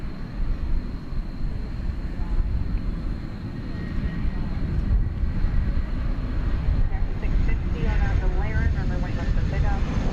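An airplane rumbles on the runway at DFW Airport at night, a loud, steady, broad engine roar that holds throughout and rises slightly toward the end. A thin whine rides on top, and faint radio-like chatter is mixed in.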